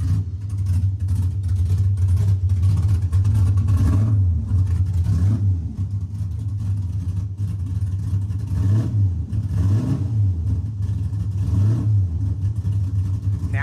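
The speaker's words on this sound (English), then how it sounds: "Now, if you want to race, this is a race car." A race car engine rumbles steadily at close range, its low drone swelling in a few revving surges throughout, with no speech over it.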